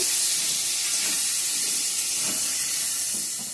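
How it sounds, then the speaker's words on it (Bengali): Rice boiling over in a pot with potatoes cooking inside it, giving a steady, loud, close hiss of steam that runs unbroken with faint bubbling underneath and no voices. "ভাতও ওতল আসছে।"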